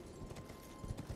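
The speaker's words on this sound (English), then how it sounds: "Okay, horsey." Horse hooves clop in a quick, faint rhythm of soft thuds as a mount moves across the ground in Elden Ring, with no other sounds over them.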